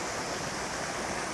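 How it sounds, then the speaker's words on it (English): A UK waterfall pours in a dense, steady broadband rush, loud and close with no pauses, water churning into a whirlpool below. "I just found the most lovely composition of this waterfall right here."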